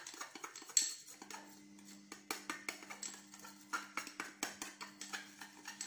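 A spoon stirs a homemade cleaning paste in a small container, giving close, steady rhythmic clicks and scrapes that quicken toward the end, with no one speaking.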